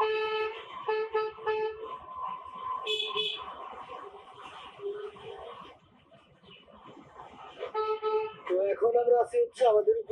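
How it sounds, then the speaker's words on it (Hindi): Repeated car horns honk in short blasts and longer held toots, layered over one another in busy traffic at the India–Bangladesh border, pausing briefly before honking again. "इंडिया बांग्लादेश इन सब कंट्री में बहुत ज्यादा हॉर्न बजाते हैं"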